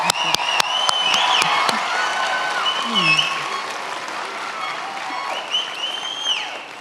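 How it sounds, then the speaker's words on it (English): A graduation ceremony crowd applauds and cheers the spring graduates, a broad sustained roar of clapping with a few sharp claps early on, while voices and whoops rise over it and fade. "Round of applause again for you guys."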